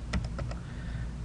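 Four quick keystrokes tap out in a short burst on a computer keyboard, close and fairly quiet, followed by a brief pause.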